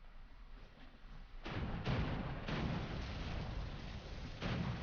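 Broadside cannons fire from a boat in War Thunder, a series of heavy booming shots arriving one after another over a steady engine and water rumble, loud and close with no voices.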